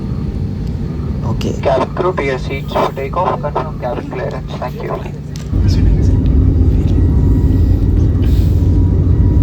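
A passenger jet on a Hyderabad to Kochi flight, heard from a window seat, gives a deep cabin rumble under a person talking, then swells into a louder, steady engine roar once the talk stops.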